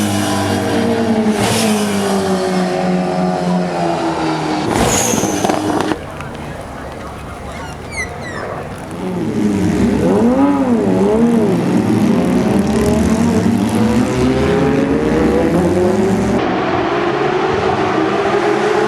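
Supercars race in a Dunlop Series endurance event at Bathurst. Loud engines roar past one after another, rising and falling as the cars go by. After a brief lull, a wailing engine note climbs and builds again, with voices at times under the noise.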